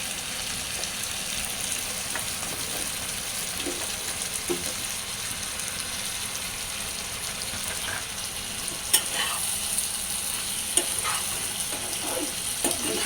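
Potatoes frying in a pan and stirred with a utensil, a close, steady sizzle with occasional scraping clicks and stir strokes across the surface.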